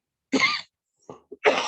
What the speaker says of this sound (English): I'm sure there'll be a coughing fit in here somewhere